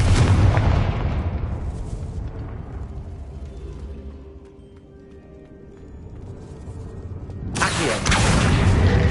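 Confringo spell blasts in Hogwarts Legacy hit with heavy booming explosions at the start and end, with a low rumbling lull between them.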